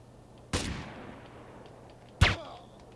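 Two loud gunshots crack in Grand Theft Auto San Andreas, about a second and a half apart, each a sharp close blast with a brief decaying tail.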